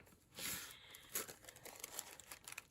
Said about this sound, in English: get our napkin down, or our tissue paper. It's Tim Holtz tissue paper